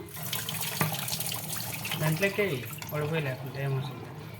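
Water poured off cut potato pieces in a kitchen splashes and trickles close by in an uneven stream, while a person talks over it.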